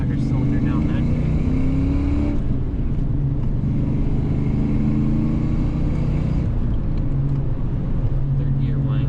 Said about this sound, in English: Third gear whine a little bit.